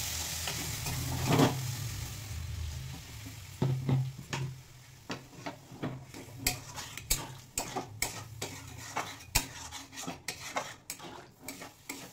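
Chicken and jackfruit cook in a pan with a steady low sizzle. Close, irregular clinks and scrapes of a spoon stirring the pot run throughout, and there are brief splashy bursts near the start as a little water goes in.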